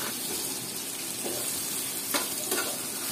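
Tengra fish stirred into a frying spice mixture, with a steady close sizzle and a couple of soft spatula scrapes over a few seconds, no talking.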